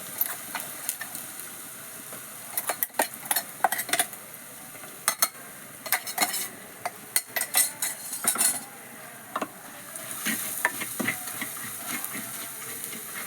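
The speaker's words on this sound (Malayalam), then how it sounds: "പൊടിച്ച് വെച്ചത് നമുക്ക് എണ്ണയിലേക്ക് ഇട്ട് കൊടുക്കാം." Ground spice mixture tipped into hot oil for a home-style Kerala rasam, stirred with a metal spoon against the pan: irregular scraping and clinking strokes over a faint steady sizzle, close and alone without talk.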